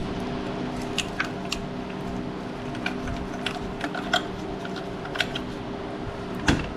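Ratchet working a 10 mm bolt loose on a 2012 Honda Accord alternator, a series of faint, sparse clicks spread over a steady background hum, with one sharper knock near the end.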